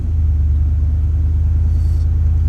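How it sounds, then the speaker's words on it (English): A Nissan Patrol Y62 V8 engine runs with a loud, deep, steady rumble close by, an even low drone with no break. "When I start the car"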